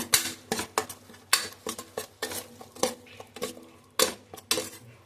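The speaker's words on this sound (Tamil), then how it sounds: "இஞ்சி பூண்டு பேஸ்ட்டு சேர்த்துக்கிறோம் அதையும் நல்லா வதக்கி விட்டுருங்க" Ginger garlic paste sautéed in a pan for a Tamil radish curry, with sharp repeated clinks and scrapes of a metal spoon against the pan in an irregular rhythm, close and fairly loud, with no talking.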